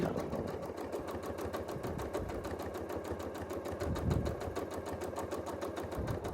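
A sewing machine does free-motion quilting, its needle hammering in a fast, even rhythm with a steady motor hum, close and continuous for the whole stretch.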